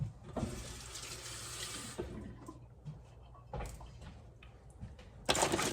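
Kitchen tap water runs over raw shrimp in bursts, starting and stopping a few times, with a final loud gush at the end and faint background clatter between.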